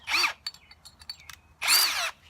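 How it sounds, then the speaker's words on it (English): A power drill bores holes in the side of a plastic bucket, two loud, close bursts of whining drilling with a quiet gap of small handling clicks and taps between them. "let's just finish drilling those holes on the side"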